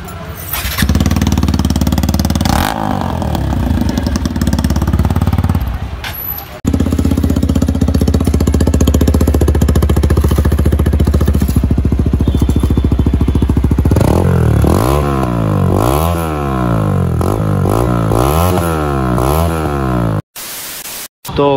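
A TVS Apache RTR 160 4V motorcycle with a newly fitted Akrapovic exhaust idles loudly and roughly up close, then gets a series of sharp throttle blips that rise and fall repeatedly before the engine cuts out.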